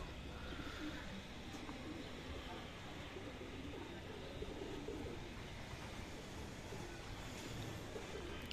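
Racing pigeons at their loft give low, soft cooing amid a constant outdoor background hum, faint and steady throughout, with possible murmured talk underneath.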